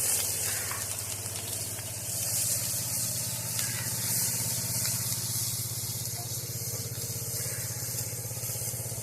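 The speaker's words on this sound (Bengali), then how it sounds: "এবার এই তেলে আমি পেঁয়াজ লঙ্কাটা দিয়ে দেব।" Onion and green chilli fry in oil left from frying fish, producing a steady, fairly faint sizzling hiss with a low hum underneath and no talking.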